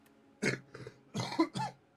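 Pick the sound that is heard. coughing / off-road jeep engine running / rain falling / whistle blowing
coughing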